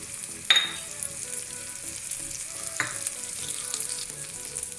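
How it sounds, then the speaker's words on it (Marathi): Green chilli thecha is tempered in hot oil poured into the middle of the pan, giving a sharp sizzling burst followed by steady frying and a second stirred flare-up, close and alone. "आता मी मध्यभागी तेल घातलेलं आहे आणि त्याला फोडणी देणार आहोत आपण।"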